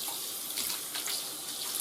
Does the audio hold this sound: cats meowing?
no